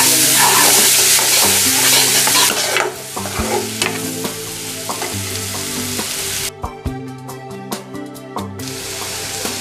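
Onions sizzle loudly in a pan with spices for soya chaap biryani, frying toward golden brown as a utensil repeatedly stirs and scrapes through them.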